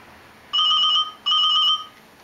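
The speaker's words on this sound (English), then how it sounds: "I'm just going to dial another extension here on my, and then pick the phone up, and that dials it" A Linksys SPA941 desk phone rings after an extension is dialed, giving two clear electronic ring bursts, each about half a second long with a brief gap between them, heard alone.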